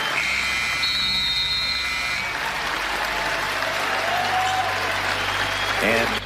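Basketball arena crowd applauding steadily in honor of Kobe Bryant, a dense sustained roar of clapping and cheering with buzzer-like tones above it, while a commentator talks.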